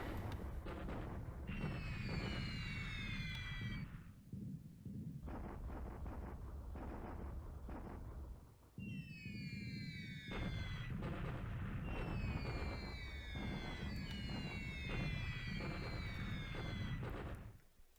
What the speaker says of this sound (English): Every bomb that lands on this unit will cause disruption